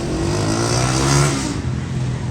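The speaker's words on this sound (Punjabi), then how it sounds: "ਹੌਲੀ ਚਲਾਓ ਮੋਟਰਸਾਈਕਲ" A motorcycle being ridden, its engine giving a steady, close drone that swells slightly midway before settling, with no talk over it.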